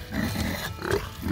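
A pig grunts repeatedly in short, low snorts, close by, with no other sounds.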